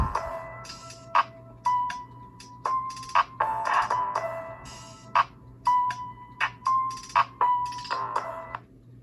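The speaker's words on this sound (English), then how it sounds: "let me show you guys the sound of each one. And we're gonna start with the Acer full volume." Tinny music with bright repeating tones and sharp clicky percussion plays from Acer Chromebook 311 laptop speakers at full volume, with steady low hum underneath.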